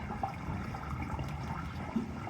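Water poured down a blocked sewage drain, a steady rushing, gurgling wash that stays fairly constant throughout, with no talk over it.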